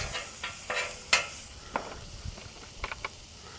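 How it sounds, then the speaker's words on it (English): Crawfish tails set on a hot skillet to warm: a soft, low sizzle with a few quick scrapes and taps of a utensil against the pan, close and quiet. "we're going to start taking out some of this crawfish and actually get it on the hot skillet"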